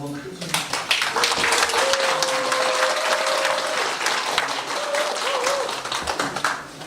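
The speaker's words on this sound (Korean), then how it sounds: "마지막으로 박수 한번 크게 쳐주세요" Audience applause at a 2025 county town-hall talk concert in Samseong-myeon, Eumseong, with loud, dense clapping from a crowd for nearly seven seconds. A voice rises briefly above the clapping before it tapers off.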